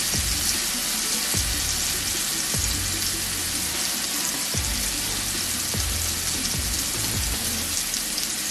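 A kitchen tap runs in a steady, close rush of water as hands are washed, with soft splashes and light thumps breaking the constant flow.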